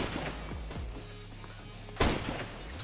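Sniper rifle shots in the Roblox game Flag Wars, a few heavy booming reports with short decaying tails, two close together early on and a louder one later, with no talking.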